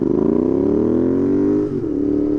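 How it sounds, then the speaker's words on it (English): A Royal Enfield Interceptor 650 with an aftermarket S&S exhaust pulling away from a dead stop, its loud, deep, throbbing note rising steadily in pitch up close before easing off. "And that exhaust note, it's so incredible."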